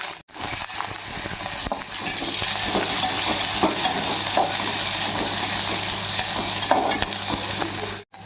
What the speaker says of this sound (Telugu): ఈ విధంగా ఉల్లిపాయలన్నీ పచ్చివాసన పోయేటట్టు ముందుగా మనం ఇలా ఫ్రై చేసుకుంటూ ఉండాలన్నమాట